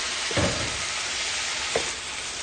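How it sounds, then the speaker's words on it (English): Beef sautéing in rendered beef fat for a Lancashire hotpot, a constant close hiss with two brief stirring scrapes, no talk. "Saute that some more"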